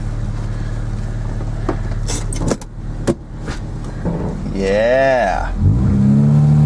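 Idling Honda Prelude with a freshly replaced alternator setting off on a test drive, a low engine hum under a few clunks and door sounds, then a rising and falling whine as it pulls away, with brief talk.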